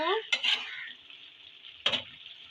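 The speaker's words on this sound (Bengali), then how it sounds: "ঢাকনাটা খুলে আমি একবার দেখে নেব একবার নেড়ে দেবো" A vegetable curry of potatoes, aubergine, beans, peas and dried shrimp gets stirred in a pan once the lid comes off, with two sharp spoon scrapes against the metal over a soft sizzle.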